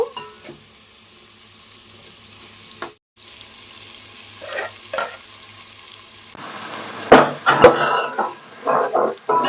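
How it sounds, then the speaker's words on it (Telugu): Gongura leaves frying in a spiced masala for a prawn biryani, with a steady close sizzle and bursts of louder spatula stirring and scraping toward the end. "గోంగూర కూడా వేసిస్తానండి దీన్ని కూడా ఈ మసాలాలో కాసేపు అయితే వేగనివ్వాలండి"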